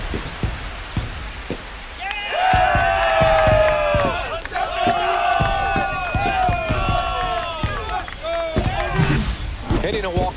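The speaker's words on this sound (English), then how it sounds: "That should put a jolt into this home crowd." A home crowd in the MLB The Show 25 baseball video game roars after an Angels walk-off home run, loud sustained cheering with shouts and whistles rising over sharp bat-like knocks, while commentators talk underneath.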